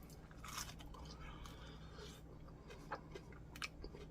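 Close, faint chewing of a hot Reuben sandwich with Swiss cheese, sauerkraut and meat, soft wet crunches and a few sharper bites over a quiet background.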